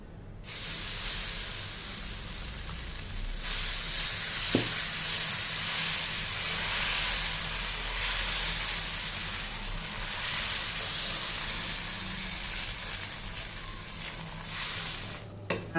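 Dosa batter cooks on a hot oiled pan over a gas stove turned low, a continuous close hiss and sizzle holding steady for the whole stretch with one faint clink partway through.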